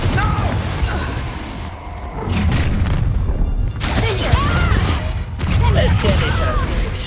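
Explosive fire-blast spell bursts and crashes in the Hogwarts Legacy video game, with booming impacts, mechanical clatter and creaking debris during combat, and voices calling out over the action.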